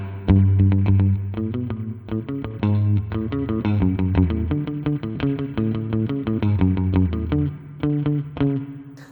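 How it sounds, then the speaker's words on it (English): An electric guitar plays a run of plucked notes through an Alexander Space Force Tremverb pedal, its spring reverb set to drip with tube bias tremolo after it, each note trailing a wet, wobbling splash. "This is a spring reverb with a tube bias type tremolo."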